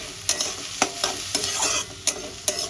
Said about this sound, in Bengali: পেঁয়াজটাকে একদম বাদামি করে ভেজে নেব